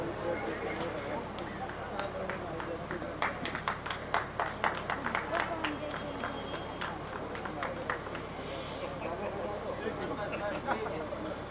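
An audience at a poetry gathering's opening ceremony gives sparse, scattered claps, faint and uneven, under a speaking voice and room murmur.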